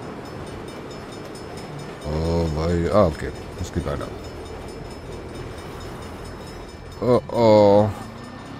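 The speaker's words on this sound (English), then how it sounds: "Bad time for a train." A train rolls past in the Saints Row video game during a police chase, a steady rumble under the score, while someone speaks German in two short bursts.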